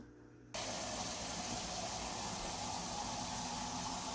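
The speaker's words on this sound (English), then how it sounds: "just probably add some cold water to this and bring the level up" Cold water poured from a tap into a canning pot, a sudden steady rushing hiss that starts after a brief quiet moment and continues evenly.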